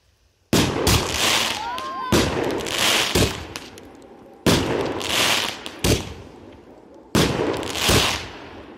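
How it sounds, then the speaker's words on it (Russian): Several loud birthday firework blasts burst one after another, each followed by crackling and fizzing, with a whistling rocket rising early on. "А теперь салют самый большой."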